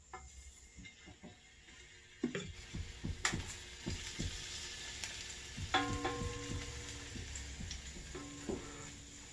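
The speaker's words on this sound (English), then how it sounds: "garlic fried in the oil" Garlic fries in hot oil in a wok while being stirred, giving a quiet crackling sizzle with scattered taps and scrapes of a utensil that grow busier partway through.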